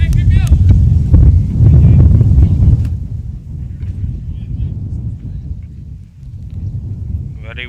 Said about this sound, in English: Very windy today in Bratislava for game 1 of Friday's program.